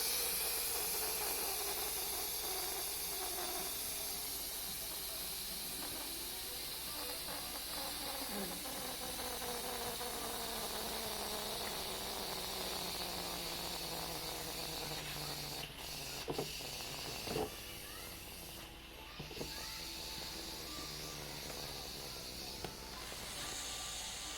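A pressure cooker venting steam while cooking beef stew, a steady close hiss that runs continuously, with faint clicks and rattles near the end as the pressure drops.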